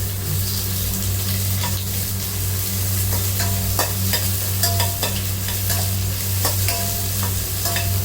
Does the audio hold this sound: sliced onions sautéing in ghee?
yes